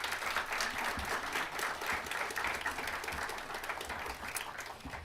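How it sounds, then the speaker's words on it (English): Sustained applause from an audience at a university talk on democracy, steady and dense throughout with no pauses, heard from within the room. "Please give a round of applause"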